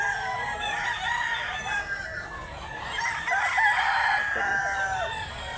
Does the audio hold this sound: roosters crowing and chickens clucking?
yes